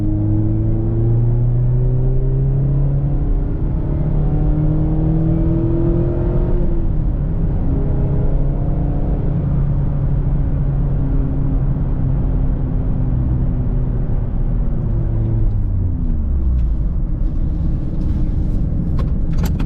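A 2022 Mazda Miata RF with a manual gearbox is driven hard through corners, its engine note climbing and falling steadily with gear changes, heard close from inside the cabin with no talk.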